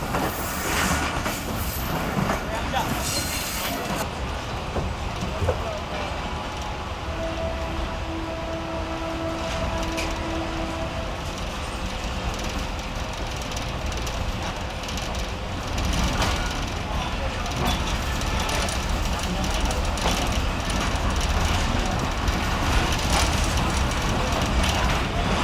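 A Karachi Circular Railway train runs along the tracks, curving past the Karachi Port area toward Karachi City station, giving a steady loud rumble with rattling and clatter throughout. A voice talks over it.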